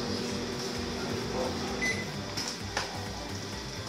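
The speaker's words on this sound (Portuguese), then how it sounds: "que dá pra colocar no micro-ondas. E vamos dar uma derretida nele rapidinho, um minuto" A microwave oven runs with a steady low hum and fan drone while cheddar melts inside, with a small click or clunk toward the end.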